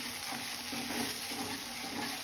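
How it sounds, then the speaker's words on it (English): Water being poured into a pan with jaggery while cooking a sweet, a soft steady hiss and trickle lasting about two seconds, quiet and close with no talking. "Now add 1 cup of jaggery and 3/4 cup of water."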